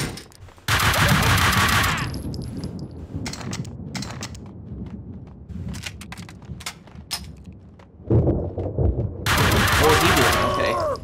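Loud bursts of automatic gunfire from the Max Payne 2 video game, two long sustained volleys with scattered single shots and impacts between them, close and dense, with game voices faintly underneath.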